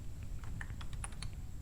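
Quick, light keystrokes on a computer keyboard while entering text in Photoshop, a short irregular patter of soft clicks, close and fairly quiet, with no talking.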